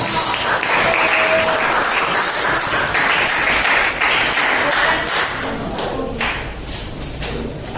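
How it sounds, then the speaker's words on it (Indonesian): A classroom audience applauds a student group after its presentation, loud dense clapping from many hands filling the whole stretch and thinning slightly near the end. "kasih aplaus buat kelompok"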